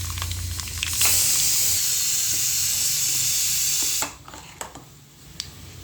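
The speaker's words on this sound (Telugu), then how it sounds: "పోపు వేగుతుందండి." Spices for tempering, with chillies, sizzle in hot oil for greens curry, a loud steady hiss lasting about three seconds that then drops away into faint crackles and scrapes.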